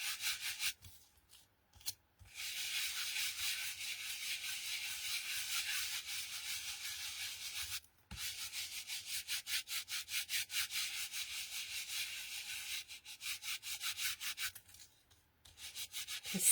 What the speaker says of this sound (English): I am just going to rub this over the top to bring some of that detail out